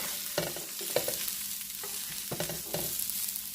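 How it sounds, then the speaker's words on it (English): Vegan beef pieces sauté in a pan for vegan broccoli beef, a soft sizzle broken by several clattering stirs and flips, close and alone without speech. "We're going to let these saute for a little bit, and then we'll flip them."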